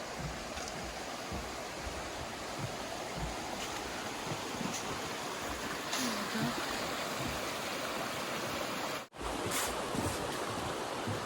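Water in a creek along the Appalachian Trail in Vermont rushes in a steady, fairly loud wash that is broken only by one brief dropout near the end.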